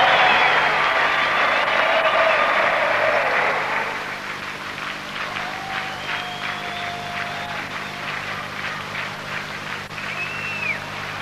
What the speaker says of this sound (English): tremendous round of applause when he gets down the fine leg